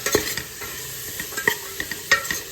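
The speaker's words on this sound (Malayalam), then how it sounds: "നേരത്തെ ഇട്ട കടലയുടെ കൂട്ടിൽ നമുക്ക് ഈ വറുത്ത പൊടികളെല്ലാം ഒന്ന് ചേർത്ത് കൊടുക്കാം കേട്ടോ എന്നിട്ടൊന്ന് മിക്സ് നന്നായിട്ടൊന്ന് ഇളക്കി കൊടുക്കാം" Chickpea curry with roasted spice powders is stirred in a pan. A spoon scrapes in close, uneven strokes, with sharper clacks at intervals, over a steady soft sizzle.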